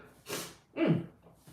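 Two quick sneeze-like bursts close together, the second more forceful and throaty, up close with no talking.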